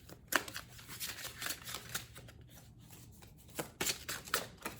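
Rebel deck oracle cards being shuffled and pulled: a run of soft, papery riffles and flicks, close and fairly quiet, with sharper card snaps clustering near the end.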